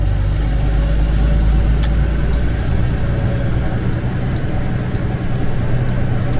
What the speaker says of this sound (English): Listen to the engine fan more than anything.